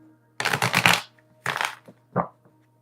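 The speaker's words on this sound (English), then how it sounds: "Let me give it one shuffle." Tarot cards are shuffled close up: one long rapid riffle, then a shorter burst and a brief final flutter, crisp and distinct against a faint steady hum, with no talk.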